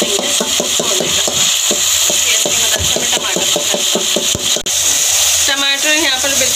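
Tomatoes for fry daal are stirred and cooked down in a pan, with a quick run of close, rhythmic scraping strokes over a constant tonal background and a short break midway.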